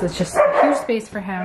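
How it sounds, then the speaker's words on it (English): Dogs barking inside a house, sharp yips and barks mixed in with someone talking nearby during the short stretch. "The dogs are going crazy."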